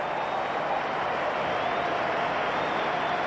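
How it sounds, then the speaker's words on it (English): A cricket crowd at a World Cup match between West Indies and South Africa gives sustained applause for South Africa's 150, a broad, even wash of distant clapping with no clear breaks. "applause coming for the 150 for South Africa"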